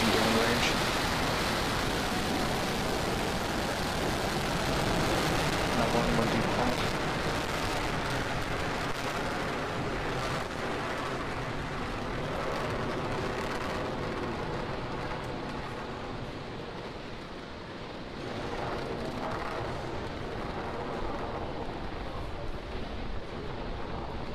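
A Falcon 9 rocket carrying the Quetzal 1 satellite lifts off, heard as a sustained, broad, distant roar that holds steady for a long stretch before easing slightly, with faint launch commentary underneath.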